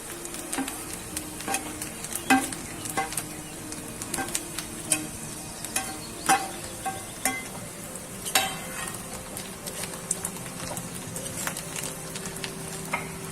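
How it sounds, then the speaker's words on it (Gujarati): Okra with spices fries in a pan for a dry stuffed-okra dish, a low sizzle broken by frequent light scrapes and taps as it is gently stirred, close and without voices. "આ રીતના બધું આપણે મિક્સ હળવા હાથે કરવાનું છે"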